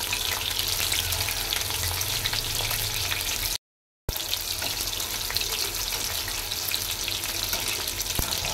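Soybean pakoda fries in very hot oil, a loud, steady bubbling sizzle up close, broken by a brief moment of silence partway through and then continuing with occasional stirring clinks and no voices.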